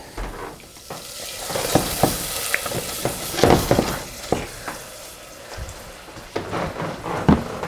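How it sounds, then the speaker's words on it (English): Corn sizzles and crackles in hot oil in a pan, with occasional scraping and stirring clatter, close up and steady. "my corn's sizzling"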